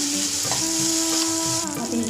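Onions frying loudly in a pan with ginger-garlic-chili paste just added, giving a dense continuous sizzle with a stirring scrape part way through and a steady tonal hum underneath.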